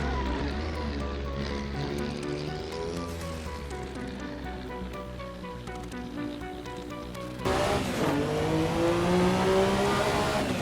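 Turbocharged Porsche accelerating hard, its engine note climbing steadily through the revs, then a gear change and a fresh, louder surge as it keeps pulling, heard from inside the car.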